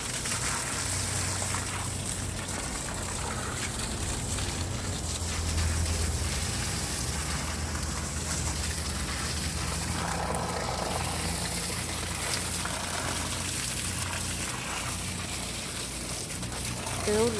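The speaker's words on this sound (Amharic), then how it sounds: "እንዲህ ነው ማጠጣቸው ውሃ" Water steadily poured or sprayed over aloe vera plants, brought from Ethiopia and growing in a shaded backyard spot: a continuous, even splashing hiss running the whole time with no break.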